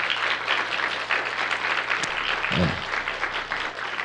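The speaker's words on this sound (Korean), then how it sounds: "자, 우리 박수로 한번 힘차게 밀어주겠습니다." Steady applause from a church congregation at a Friday worship service fills the room, continuous and moderately loud, with a brief low thump partway through.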